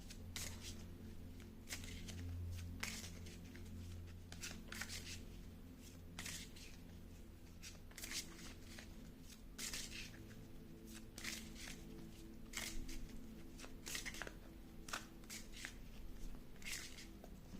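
Tarot cards are handled and shuffled during a reading, producing repeated soft riffling and slapping bursts at an uneven rhythm against a steady background hiss, close and moderately quiet.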